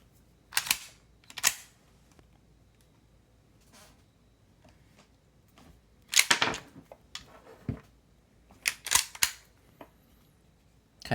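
Sharp metallic clicks and snaps from a handgun being loaded with a snap cap dummy round, arriving in a few separate bursts with quiet pauses between them.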